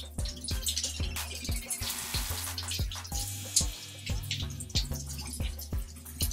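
Water runs from a tap while someone rinses their hair, with splashing, dripping and uneven bursts of flow close by, fairly quiet, with no talking.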